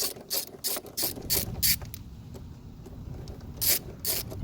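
An 8 mm socket on a ratchet loosens a bolt during air filter replacement on a 2014 Jeep Grand Cherokee, giving close, crisp clicking bursts in quick repeated strokes with brief pauses between them.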